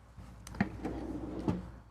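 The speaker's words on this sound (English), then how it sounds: "So now I'll be able to get access to these 3 drawers. And they are full extension. They're very smooth in coming out." Full-extension drawers sliding open in a Winnebago Navion 24D RV, giving two soft, close thumps about a second apart over a quiet interior hush.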